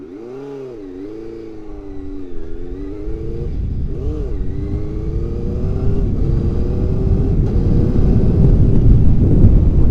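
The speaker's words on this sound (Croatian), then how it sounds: "ima veoma glasan auspuh i zato nećemo baš puno da ga navrćemo ovdje" A loud Suzuki GSX-R 600 SRAD sport motorcycle engine idling and blipping, rising pitch as revs climb, with a deep rumbling exhaust building louder toward the end.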